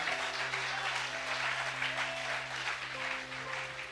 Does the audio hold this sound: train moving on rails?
no